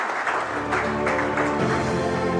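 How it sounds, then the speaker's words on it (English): Audience at an art awards ceremony breaks into applause, a sustained, fairly loud wash of clapping from many hands in a hall. "Big round of applause."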